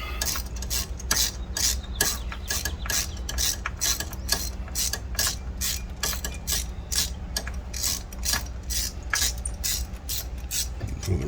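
A ratchet loosens a spark plug on a Dodge Durango HEMI engine, its pawl clicking in a fast, steady, close-up run of sharp metallic ticks that continues throughout with no talking.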